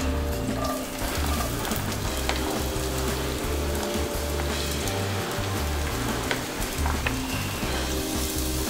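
White onion and browning garlic frying in olive oil in a pan, a steady close sizzle with a few crackles and pops throughout.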